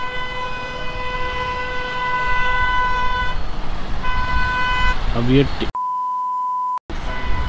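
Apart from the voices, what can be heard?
vehicle horns honking in traffic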